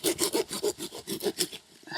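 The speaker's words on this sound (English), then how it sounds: "let me get sawing" Close, rhythmic sawing strokes through the roots of a lifted spiraea clump, about ten quick back-and-forth rasps, then a brief pause.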